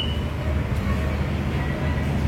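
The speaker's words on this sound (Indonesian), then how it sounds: "Itu kereta api Majapahit." Majapahit passenger train standing at Tulungagung station in Indonesia, a steady low rumble of engine and rail noise filling the space, close and continuous with faint voices in the background.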